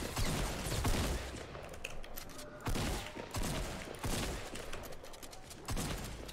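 Rapid gunfire in the video game Fortnite, dense bursts of shots in quick succession with brief pauses between volleys, loud and continuous.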